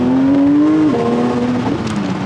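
A 2022 Porsche 992 GT3 naturally aspirated engine on a fast drive, loud and close from the cabin, a steady high drone that drops briefly as it shifts, then climbs again.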